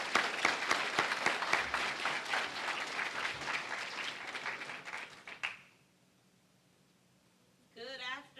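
Graduation ceremony audience breaking into loud, dense applause that carries on for several seconds before stopping abruptly, followed by near silence and then a voice starting to speak.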